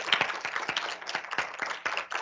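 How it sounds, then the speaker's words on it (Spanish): A small group of students clapping after a science seminar talk, sparse distinct claps with an uneven, loose rhythm, fairly close and moderately quiet, no speech over them. "Un aplauso, chicos, por favor."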